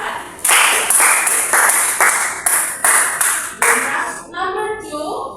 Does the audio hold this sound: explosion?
no